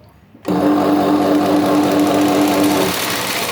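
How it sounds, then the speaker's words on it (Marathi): An electric sewing machine stitches a cotton petticoat, starting abruptly after a quiet moment and then running as a loud, close, steady whirring buzz that eases slightly near the end. "आता ही परकरची मी कशी शिलाई मारली"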